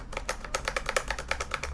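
Rapid, evenly paced clacks come from typing on a Razer Huntsman V2 Analog keyboard with heavy springs, each keystroke crisp and close, forming a continuous run of about a dozen strikes with no talking.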